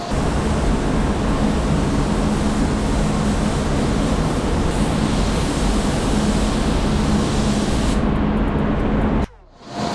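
A spray gun lays clear coat onto a car panel inside a paint booth, a steady close hiss running unbroken for several seconds before cutting off abruptly near the end.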